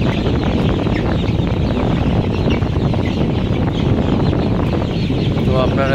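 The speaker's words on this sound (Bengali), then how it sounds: "আপনারা দেখতে পাচ্ছেন যে আমার একটা মুরগির বাচ্চা ধরলাম" A Sonali super hybrid chick, held in the hand on a poultry farm, clucks amid a dense, continuous din of other birds.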